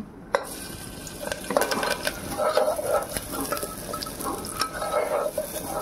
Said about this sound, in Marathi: चला आपण फोडणी घालूया